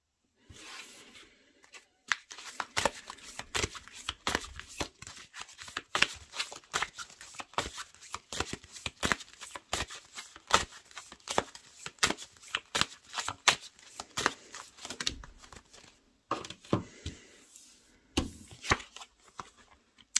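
Large cards shuffled and handled on a table, a long run of close, dense riffling and slapping taps with brief pauses between bursts.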